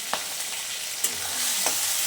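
Chopped tomato and green chilies frying in oil, a steady sizzle punctuated by a few sharp stirring clinks and scrapes, close and moderately loud.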